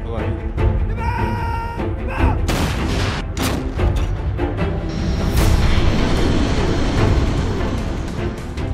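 Artillery fire at a live-fire military drill in open terrain: repeated heavy booms and blasts crowd the clip, loud and overlapping, with reverberant rumble between shots.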